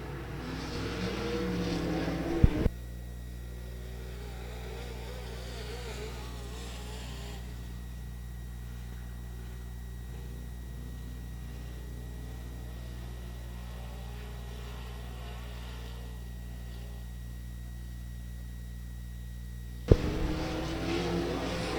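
Race cars roar around the 281 Speedway track in a 15-lap race: a steady, droning engine rumble with a few louder bursts at the start and end, with no talk.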